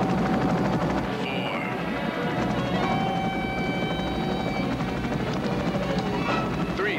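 A helicopter hovers close to a wall with its rotor near, making a loud, continuous throbbing roar with a steady whine, and faint radio-like talk sits underneath.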